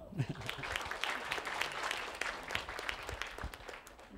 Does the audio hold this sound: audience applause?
yes